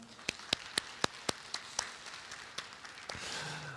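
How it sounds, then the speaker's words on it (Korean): Scattered hand claps from a church congregation, a handful of sharp separate claps spaced out at first, then thickening into a soft wash of applause toward the end, heard at a modest distance. "우리 하나님께 감사와 영광의 박수 올려드리겠습니다."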